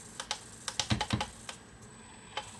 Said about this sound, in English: Just keep mashing that button there.